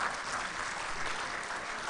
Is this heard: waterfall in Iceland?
no